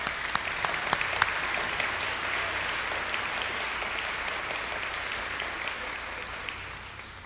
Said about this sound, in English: we can clap for Dr. Mold.